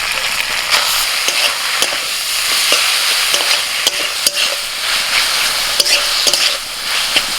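Prawns and boiled, squeezed taro greens sizzle loudly in hot oil in a pan while a utensil stirs them, with recurring scraping clicks and knocks over a continuous crackling fry.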